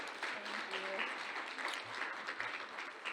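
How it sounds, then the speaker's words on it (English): An audience applauds the library's interim director, a moderate round of clapping mixed with crowd murmur, steady throughout the short burst. "Could we give her a round of applause?"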